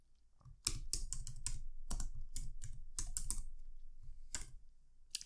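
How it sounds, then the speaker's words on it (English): Quick, close bursts of typing on a computer keyboard, keys clattering in irregular runs with brief pauses, alone in a quiet room. "so let's type that in"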